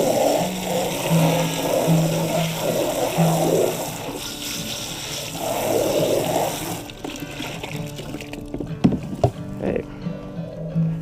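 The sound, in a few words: rinsing a GreenStalk planter section with a garden hose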